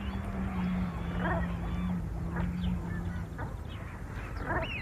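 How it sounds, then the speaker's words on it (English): Distant waterbirds call with repeated quacking and honking notes over Rofford Marsh, faint and scattered across a steady outdoor hum, with a low voice murmuring briefly in the background. "It's definitely a bird in the distance."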